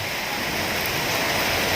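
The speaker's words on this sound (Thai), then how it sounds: "ฝนตกที่กกอก ลมจะแรงมากครับ" Heavy summer-storm rain pours down with strong wind in Kok Kok, Thailand, a dense, even roar of falling water filling the short stretch without any voices.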